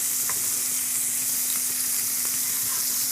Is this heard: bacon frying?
yes